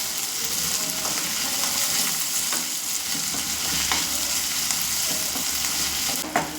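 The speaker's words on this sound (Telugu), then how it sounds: "ఇప్పుడు ఇందులోన అల్లం వెల్లుల్లి దంచింది ఫ్రెష్గా ఇప్పుడు దంచానండి, వేసుకొని బాగా మిక్స్ చేసుకోవాలి." Fresh-pounded ginger and garlic paste sizzles in hot oil with softened jackfruit for a curry, a steady broadband frying hiss close up with occasional scrapes of stirring and no voices.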